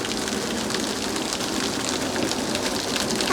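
Rain falls steadily in the UAE desert, a dense, even patter on surfaces that holds at a constant loud level throughout.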